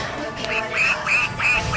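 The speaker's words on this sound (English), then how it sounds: "You hear that? It's just quack," A duck-shaped pencil case toy quacks, giving about four short, high, squeaky quacks in an even rhythm, loud and close.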